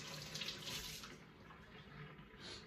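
Warm tap water runs steadily into a kitchen sink while potatoes are scrubbed under it, a close, continuous splashing hiss with slight shifts as the hands move through the stream.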